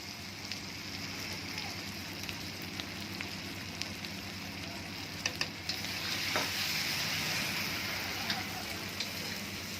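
Ready-roasted spice masala for chicken sizzles in a pan as it is stirred, a continuous loud frying hiss broken by small scraping clicks of the spoon.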